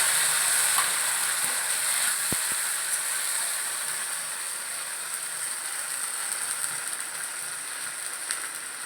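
Spices fry in a pan with a steady, dense sizzle that holds throughout, with a couple of faint clinks and no talking.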